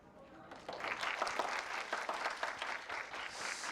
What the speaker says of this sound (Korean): 이 정도 박수 소리면은 저희가 행사를 시작할 수가 없죠